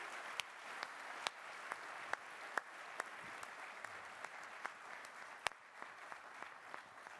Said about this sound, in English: can you give me, please, big hand of applause for all these amazing people who work on Java?